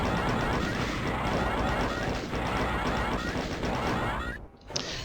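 Chaingunners fire in DOOM, dense, continuous rapid gunfire that fills nearly the whole stretch loudly before cutting out abruptly near the end.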